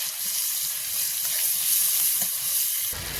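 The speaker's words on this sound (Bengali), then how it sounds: "এদিকে কড়াইতে পেঁয়াজটা দিয়ে দেবো" Onions sizzling in hot oil in a kadai, a steady broadband hiss and crackle that holds even and fairly loud throughout, with no voices.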